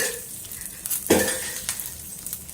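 Oil sizzling in a pan while frying ingredients for a ridge gourd pickle, with a soft crackle, a sharp stir and clink of utensil on metal near the middle, and no talking.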